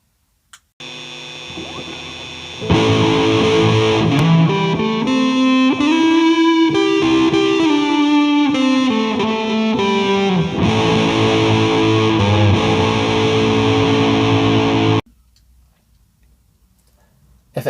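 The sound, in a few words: delay and reverb effects on instrument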